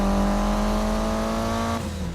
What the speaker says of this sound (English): just yanked on the handbrake and managed to do a full 180